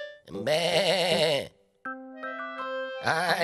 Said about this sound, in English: A cute bah, bah, from a cute little sheep.